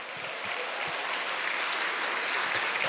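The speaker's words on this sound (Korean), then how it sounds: "박수 보내주세요." A large audience at an Atomy business gathering applauds first-time attendees, producing a dense, continuous wash of clapping at a steady, moderate level.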